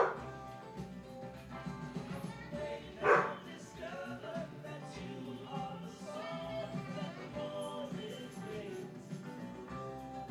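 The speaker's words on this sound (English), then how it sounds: "one of my dogs" A pet dog gives a single short bark partway through, set against a busy background of talk and other household sound.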